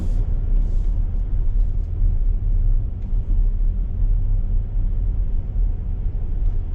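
A 2023 Volvo XC60 B5 AWD pulls away, heard from inside as a steady low engine and road rumble with faint higher whooshes, continuous and fairly loud.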